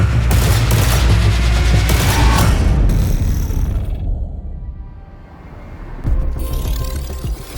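Shots from a D54 battle pistol in the video game Marathon, loud and close. Rapid bursts and booms fill the first seconds, fade to a lull, then a fresh volley starts up.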